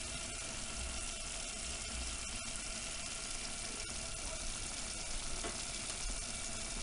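Homemade pizza cooking with a continuous bright sizzle and crackle, dense and even from start to finish, with occasional faint clicks and a watery bubbling texture, close and moderately loud, no talking.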